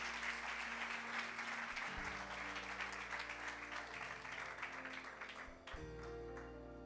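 A church congregation applauds loudly and steadily throughout, with sustained keyboard chords held underneath the clapping.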